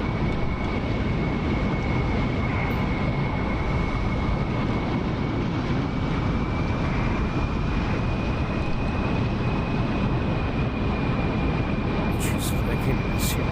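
An F-14 Tomcat's jet engines roar during a takeoff roll in the DCS flight simulator game, in foggy weather. The roar is loud and steady, a dense, unbroken drone that fills the whole clip with a faint whine riding on top.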